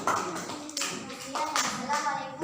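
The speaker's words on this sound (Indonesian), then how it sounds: "Oke, beri tepuk tangan untuk kelompok." Students in a classroom clap for a group after their poster presentation, an uneven patter of nearby hand claps and taps mixed with shuffling and soft voices.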